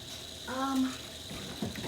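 Tap water running into a pitcher at a kitchen sink, a short gurgling fill with a rising tone in the middle, close and moderately quiet.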